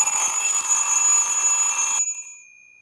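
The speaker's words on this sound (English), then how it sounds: "Enter alarm clock. Listen to the noise it makes." A small alarm clock rings with a loud, steady, high-pitched bell-like trill for about two seconds, then stops abruptly and leaves a faint fading tone.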